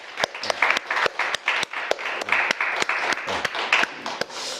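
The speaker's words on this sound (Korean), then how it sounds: "우리 서로 격려의 박수." A church congregation at a Sunday service gives a round of encouraging applause, many hands clapping together in a dense, lively patter with sharper individual claps standing out, sustained and fairly close throughout.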